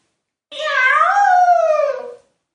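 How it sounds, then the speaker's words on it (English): A cat gives one long, loud, drawn-out meow lasting under two seconds, close and clear, with nothing else around it. "heard his cat Envelope calling"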